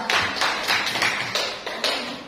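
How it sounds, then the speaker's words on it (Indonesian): A classroom group breaks into applause for the second presenting group, with a short run of several distinct claps in uneven rhythm, nearby and moderately loud. "beri tepuk tangan untuk kelompok 2"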